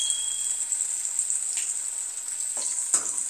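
Pieces of viral (snakehead) fish fry in hot oil with a steady bright sizzle and crackle, broken by a couple of brief clattering stirs near the end.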